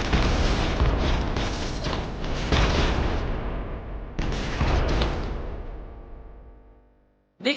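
Rocket strike explosions in the strategy game Colony Defenders 2, a continuous rolling barrage of loud booms and rumbling blasts that fade out toward the end, with no talk.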